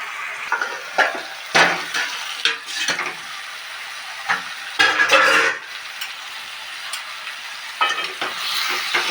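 Spice paste for amudi fish curry sizzling and frying in a pan, with bursts of louder crackle as a utensil stirs and scrapes it, close and alone without talk.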